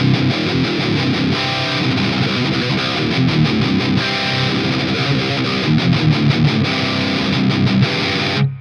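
Heavily distorted metal electric guitar played through an STL Tones Lasse Lammert amp-sim plugin, a scooped tone of chugging palm-muted riffs with rhythmic stops, loud and upfront, with no talking.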